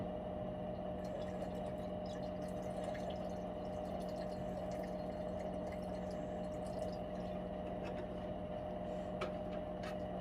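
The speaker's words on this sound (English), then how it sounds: "I'm gonna go 300 milliliters of distilled water, and then we're gonna go right with 100 milliliters of nitric acid." Distilled water and then nitric acid are poured together in a gold and silver recovery setup for scrap IC chips. The result is a steady, continuous liquid trickle and dripping under a constant low hum, with no talking.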